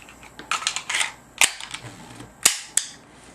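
Sharp mechanical clicks and clacks of a Bersa Thunder 9 Ultra Compact pistol being safety checked, its slide racked and action worked, with several crisp close snaps among lighter handling rattles and no talk.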